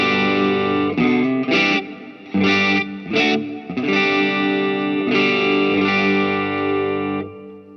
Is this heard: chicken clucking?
no